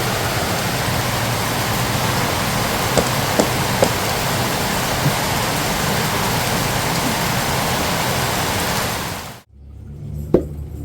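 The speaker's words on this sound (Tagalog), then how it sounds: "Lakas ng ulan" Heavy rain pours down steadily in a Filipino outdoor kitchen where native bibingka is being made, a dense wash of noise with a few sharp drips, then cutting off abruptly near the end to a quieter space with one knock.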